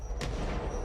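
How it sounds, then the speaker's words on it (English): Grenades burst in the video game Control as a short, dense rumble of low explosive thuds, with one sharp crack standing out briefly among the booms. "That's a lot of grenades."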